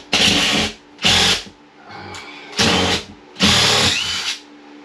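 A power drill backs screws out of drywall in an attic during a tiny house build, running in four loud bursts of a second or so each with short pauses between, plus a quiet rattle in the middle.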